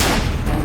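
A single loud gunshot blast filling the whole short moment, broad and booming with a sustained rumbling tail and no voices over it.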